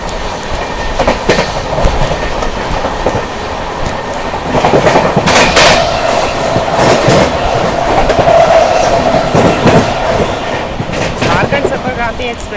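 Jharkhand Sampark Kranti Express, train 12825 from Ranchi to Anand Vihar Terminal, rumbling and clattering steadily through Shikohabad Junction railway station, loud and continuous with rhythmic wheel clicks and brief squeals, faint voices at times.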